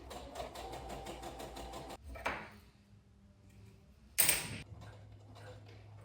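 A sewing machine stitching to close a French seam on pyjamas: a fast, even run of ticking stitches for about two seconds that stops, then quieter handling noises follow.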